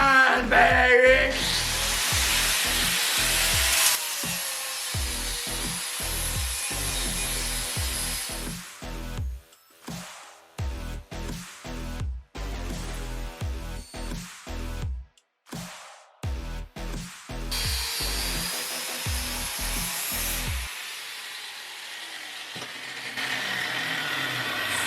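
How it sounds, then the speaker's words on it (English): Welds on a metal penguin war hammer ground down with a power grinder: loud, harsh bursts of grinding broken by short stops and restarts over about twenty-five seconds. "It's time to grind, baby!"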